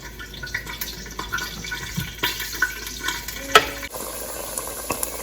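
Thinly sliced garlic sizzling in olive oil in a pan, a steady bright crackle with small pops and stirring clatter, close and fairly quiet.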